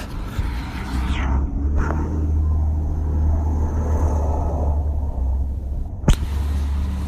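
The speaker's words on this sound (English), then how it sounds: "Noisy garbage truck." A heavy vehicle rumbles steadily nearby with deep low-end droning, a brief hiss partway through and a sharp clank near the end.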